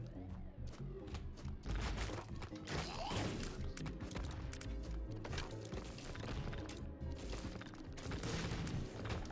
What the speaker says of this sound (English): Kind of hard to focus on what's going on in the actual room when there's just explosions everywhere.